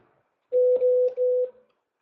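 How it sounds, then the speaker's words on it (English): Telephone dialing tones on a Cisco call-center phone line, a short run of steady pitched beeps with brief gaps, clean and close with no talking. "from the second line, I'm going to dial again"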